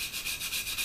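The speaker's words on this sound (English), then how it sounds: "Then all we're going to do is come back to quite a coarse sanding sponge" Coarse sanding sponge rubbing over filler on a plastic 1/48 Hasegawa F-14D Tomcat model kit, a steady close scratchy scrubbing in quick repeated back-and-forth strokes, with no talk.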